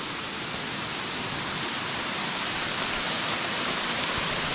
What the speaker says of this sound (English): I call this a cascade because it's not really a huge fall. Some people might call it a waterfall.